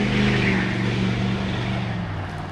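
A vehicle climbs a hill near the Sikanni River on a northern highway, its engine droning steadily and fairly close before easing off slightly, with no talk.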